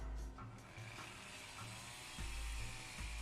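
A chainsaw whines inside the visual novel game Root Double, with a steady buzzing drone and rhythmic pulses of cutting. The sound is moderately faint and plays alone without talk.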